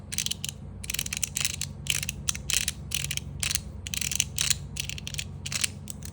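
Quick bursts of crisp clicking and gritty crunching from a fidget toy fitted with 5 mm and 4.5 mm ball bearings as it is turned, up close, over a low steady hum from an air conditioner.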